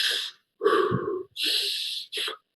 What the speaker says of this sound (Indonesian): Bernapas, woi, tarik napas.